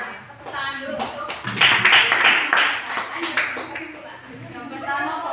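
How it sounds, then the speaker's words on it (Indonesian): A classroom of students claps for a correct answer in a maths lesson, bursts of hand claps swelling in the middle and fading, with talking mixed in underneath. "Tepuk tangan dulu untuk"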